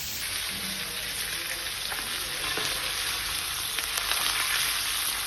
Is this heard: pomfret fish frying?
yes